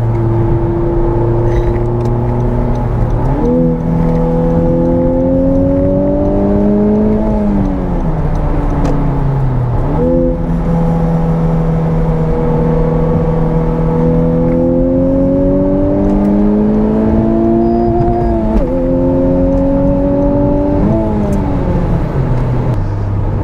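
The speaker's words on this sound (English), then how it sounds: "the car does rev kind of high, 77, 75 miles an hour right now" Honda Civic Type R engine droning at highway cruising speed around 75 mph, a steady loud hum with rising and falling pitch as revs climb through gears, road and wind noise underneath, no talking.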